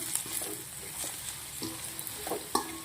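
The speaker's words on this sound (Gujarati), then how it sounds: "કોબીજ થોડી મસ્ત મજાની તેલના અંદર સંતરાઈ ગઈ છે" Thinly sliced salted cabbage stir-frying in hot oil for crispy chilli potatoes, a soft continuous sizzle with regular spatula scrapes and clacks against the pan, no voices.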